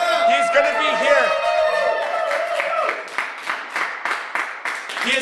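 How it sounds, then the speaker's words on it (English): A live late-night talk show crowd claps and cheers for a battle rapper guest, loud at first and then thinning into scattered individual claps, with excited voices shouting over it. "Give him a round of applause."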